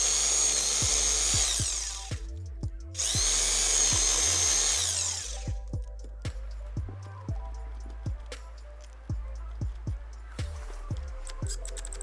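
Two long bursts of a power drill whining at high speed, driving 5 by 40 mm screws into wooden boards on a house frame, then a run of sharp knocks and clatters as screws and wood are handled nearby.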